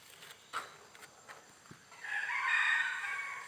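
A few faint scattered taps, then a red junglefowl rooster crows at a moderate distance at a forest temple, its call rising and holding near the end.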